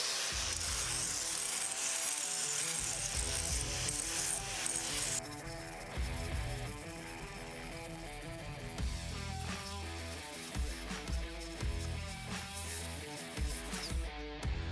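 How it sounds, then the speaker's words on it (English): An angle grinder fitted with a badly worn flap disc grinds continuously, a loud, steady, rough abrasive rubbing with shifting pitch throughout, and no talking. "an angle grinder with a flap disc that's pretty much worn out"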